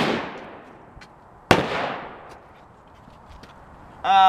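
A serpentine arquebus of mid-1400s style fires a 55 grain black powder charge at a range: one sharp, loud report with a decaying rumble, and a fainter pop follows soon after.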